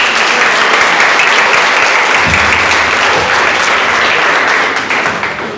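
Sustained, loud applause from a church audience at a Christian testimony gathering fills the whole stretch, steady and dense from start to finish with no talk over it.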